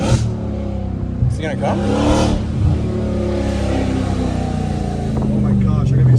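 A Dodge Challenger Hellcat Redeye with catless exhaust pipes revs loudly and rumbles steadily close by, with a few sharper throttle blips, while people talk excitedly over it.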